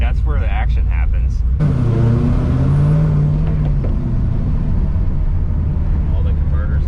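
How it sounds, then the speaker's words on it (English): A supercharged 1972 Monte Carlo with an LSA engine drives along, its rear end giving a rising tonal whine over a steady engine drone heard from inside the car, with voices talking over it. "That whining, it did that with the big block. That's just the rear end."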